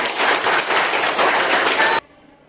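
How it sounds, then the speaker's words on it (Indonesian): Audience applause during a history class presentation, a dense burst of many hands clapping close and loud for two seconds before cutting off abruptly into near silence. "Berikan tepuk tangan bagi."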